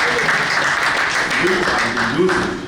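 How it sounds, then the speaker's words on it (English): Seated audience at a Longrich investment program event clapping together, a loud continuous wash of applause with voices murmuring and calling out underneath. "Please, let's clap our hands together for Longrich."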